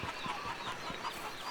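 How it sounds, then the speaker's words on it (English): Chickens in a farming video game cluck softly and steadily nearby, making a quiet run of short, overlapping clucks with no talk. "So we're got our chickens here."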